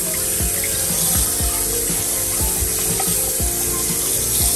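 Hot water running from a tap in a bathroom, washing glitter off a plastic Spinosaurus toy, a steady loud rushing stream with repeated rubbing and scrubbing strokes under it.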